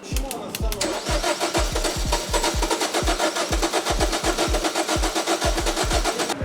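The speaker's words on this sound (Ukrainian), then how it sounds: "довго заводиться, але ну, може завестись" A Jeep Cherokee engine cranks with a rapid, even starter chug that keeps repeating for several seconds, loud and close, as the engine struggles to catch.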